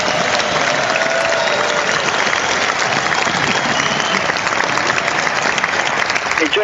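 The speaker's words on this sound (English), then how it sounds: "Big round of applause." Dense, steady studio applause for a departing guest on a live talk show, loud and continuous from start to finish with faint crowd murmur and no talk over it.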